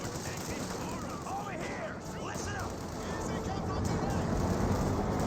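An M8 Scott gun fires in the Company of Heroes 2 video game: a muffled shot within a steady roar of battle noise, with engine rumble and scattered gunfire beneath a commentator's voice.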